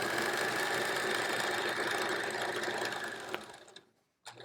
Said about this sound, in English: I am sewing the 10-inch squares together